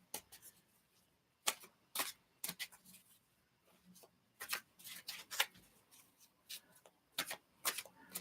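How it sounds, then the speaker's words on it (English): A deck of tarot cards is shuffled by hand in a series of crisp riffling bursts, with short pauses between them, close and fairly quiet. "we're giving these cards a shuffle"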